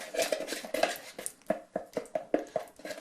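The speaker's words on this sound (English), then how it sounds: "Stirring my brew." A home brew being stirred in a pot, with a spoon knocking and scraping against the sides in a quick irregular rhythm of about a dozen clinks, close and fairly quiet.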